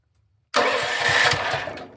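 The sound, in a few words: Champion small engine cranking over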